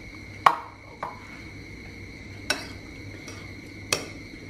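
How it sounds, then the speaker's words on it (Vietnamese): A utensil stirs green rice flakes soaked in pandan leaf juice in a metal bowl, giving four sparse, crisp clinks against the rim over a faint steady background hum, with no speech. "Mình cứ trộn đều lên để cho cái cốm á, nó hút cái nước lá dứa vô."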